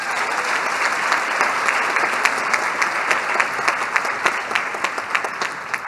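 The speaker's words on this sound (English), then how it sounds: "Can you clap to that?" Audience of first-year students applauding at a university welcome day, a dense, steady wash of many hands clapping with sharper individual claps standing out throughout.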